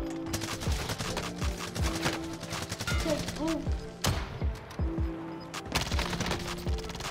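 Rapid gunfire bursts from the Warzone video game, a Diamatti secondary among the weapons, crackle repeatedly across the whole stretch, loud and close, with a faint voice underneath.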